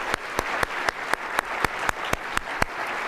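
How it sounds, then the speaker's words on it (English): An audience at a United Way annual meeting applauds, with crisp, evenly spaced claps standing out near the microphone over a softer wash of crowd clapping. "So a round of applause for the Women's Leadership Circle."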